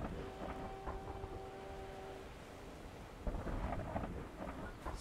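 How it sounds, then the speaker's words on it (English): A heavy storm in the oil-drilling game Drill Deal – Oil Tycoon brings rain hissing continuously and thunder rumbling low, with a louder swell of downpour near the end and no voices. "It's quite the hefty storm."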